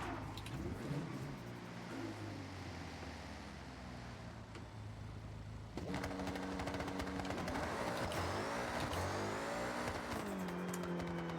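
A BMW M3 engine in a racing video game accelerates hard through a wheelie run, its loud, steady drone climbing in pitch, jumping up sharply about halfway through and then revving on with a rising whine.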